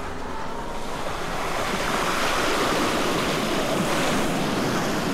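A Zero XE electric motorcycle ploughs through water, producing a continuous loud rushing splash and spray like surf, with wind buffeting the microphone throughout.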